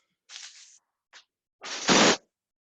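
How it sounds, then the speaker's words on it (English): A chair being pulled out across the floor during a home workout: a scrape, a short knock, then a louder scraping bang, all close by. "let me pull my chair out."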